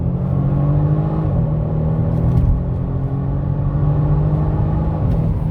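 A 2022 Genesis G70 sedan's engine drones steadily from inside the cabin, a close and continuous rumble that swells slightly as the car downshifts and pulls harder, with no talking over it.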